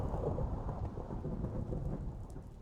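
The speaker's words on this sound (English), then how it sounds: "Ooh, and a nice storm going on outside." Thunder rumbles low and heavy under steady rain in Minecraft Bedrock, a dense continuous storm wash with no voices.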